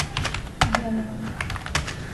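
Typing on a computer keyboard while a message is entered, a quick irregular run of sharp key clicks with one louder stroke near the middle, close and clear with no talking.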